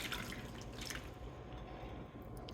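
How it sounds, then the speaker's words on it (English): One cup of beef broth pours into a roasting pan with pork sirloin and carrots, a soft continuous liquid trickle and splash, fairly quiet and unbroken. "Now I'm going to take my 1 cup of the beef broth and just pour it right on in there."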